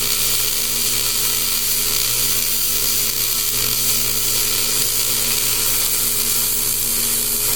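A vertical-down tack weld on a steel truck rack gives a steady, close-up crackling buzz that holds at an even level for the whole stretch, with a low electrical hum underneath.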